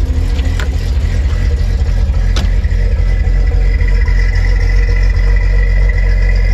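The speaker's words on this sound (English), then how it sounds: "The choke a little bit till you hear the motor smooth out." A 1979 Toyota FJ40 engine idles close by after a cold start with the choke partly out, giving a loud, steady, low rumbling drone with a slightly uneven pulse and a couple of faint clicks.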